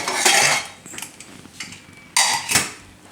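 A spoon scrapes and clinks against a metal pressure cooker while rice is scooped out, giving a few sharp metallic knocks and scrapes in short bursts, close by, with no talking.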